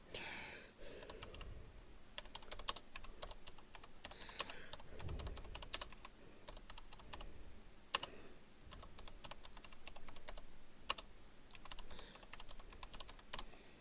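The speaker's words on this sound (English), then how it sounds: "Yeah, I'm typing badly." Typing on a computer keyboard, a continuous run of quick uneven key clicks close to the mic with no talking.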